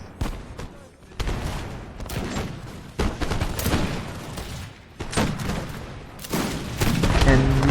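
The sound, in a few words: musket gunfight volleys in Napoleon Total War video game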